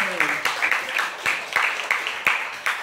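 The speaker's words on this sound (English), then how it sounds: "Clap your hand to your friend." Students in a chemistry classroom clap hands in scattered, rhythmic bursts of sharp claps, close and moderately loud, with some talk mixed in.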